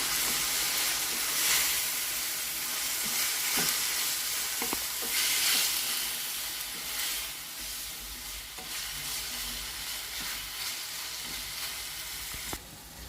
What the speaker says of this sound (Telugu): కారం, ఒకసారి బాగా కలుపుకుందాం.